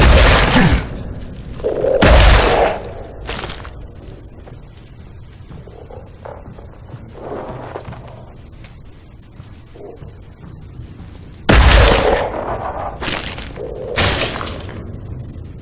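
Heavy blasts from a meat-covered shotgun in the horror game Scorn, two loud booming shots spaced far apart, each with a fleshy crunching attack and a rumbling tail, separated by quiet ambient stretches.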